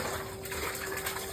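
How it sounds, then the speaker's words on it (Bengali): Water being drawn from a well, a steady rushing, gushing flow of liquid heard close and fairly loud throughout, with no voices. "কুয়োতে জল তোলা।"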